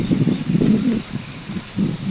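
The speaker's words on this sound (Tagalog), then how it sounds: "Ang lakas ng hangin, deng." Strong wind gusts buffet the microphone outdoors among trees in a drone-flying spot, coming in rough rumbling bursts that ease and return.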